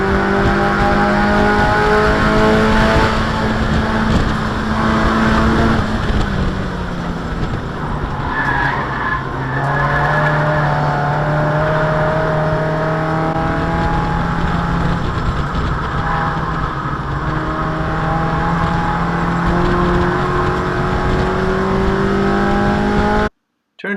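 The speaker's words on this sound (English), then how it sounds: "Let's see that again, full speed, and listen to the engine." Race car engine at full speed on the Thunderhill West track, droning loud and close throughout with shifting pitch as it revs and eases through corners, tire noise mixed in, cutting off abruptly at the end.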